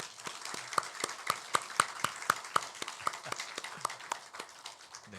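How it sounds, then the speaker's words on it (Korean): A church congregation claps to welcome a visiting family, with a steady run of sharp, fairly even claps heard close by and alone, without talk. "우리 박수로 환영했으면 좋겠습니다"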